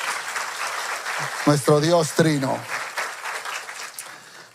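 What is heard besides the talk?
church congregation applauding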